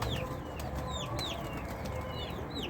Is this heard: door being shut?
no